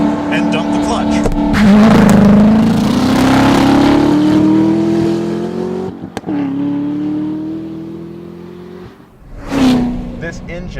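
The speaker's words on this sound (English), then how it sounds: "We're going to try launch control on a Corvette ZR1." A Chevrolet Corvette ZR1 launches hard using launch control, its engine note climbing steadily under full throttle, breaking briefly for a gearshift before surging again, with loud, close engine roar and a voice talking over it.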